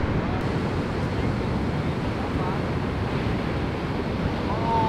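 Hurricane surf at the Outer Banks, with big ocean waves breaking in a continuous loud roar mixed with heavy wind buffeting the microphone, steady throughout.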